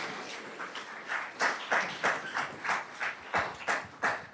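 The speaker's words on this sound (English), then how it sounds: "We need some clapping going on up in here" An audience at a community day keynote clapping in a sparse, rhythmic pattern of roughly a dozen distinct claps, moderately loud, with no talking.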